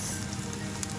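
Garlic sizzling in a hot frying pan while cooking ampalaya con carne, a steady dense hiss of frying oil that stays even and close throughout a brief moment, with no voices.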